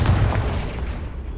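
A Confringo blasting curse explodes in Hogwarts Legacy on PS5, a loud, close, booming blast with a heavy low rumble that decays over about a second.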